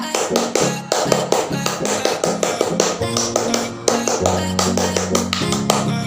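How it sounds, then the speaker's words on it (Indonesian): A Scout leader performs the rhythmic tepuk pramuka clapping pattern twice, crisp patterned claps and slaps in a repeating beat, close and clear with little else around them. "kita 2 kali tepuk pramuka dulu ya"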